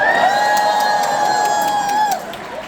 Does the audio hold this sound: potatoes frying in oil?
no